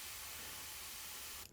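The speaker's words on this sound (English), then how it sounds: "this is a nice soft spray" An airbrush sprays paint in a soft, steady hiss of air that holds evenly for over a second before cutting off abruptly.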